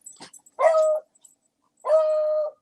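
Dogs let out two drawn-out, whimpering yelps, close and clear against silence, with a few small scratchy noises before the first.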